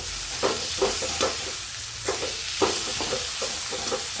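A vegetable mixture being stirred in a frying pan, soft rhythmic scraping strokes over a steady background hiss of gentle sizzling, close by.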